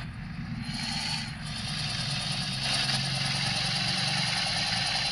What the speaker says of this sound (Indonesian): kita gaspol aja